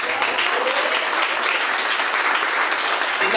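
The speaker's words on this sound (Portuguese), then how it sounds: "Você pode aplaudir o Senhor?" Church congregation applauding steadily, a dense, continuous wash of clapping from many hands that holds at an even level throughout.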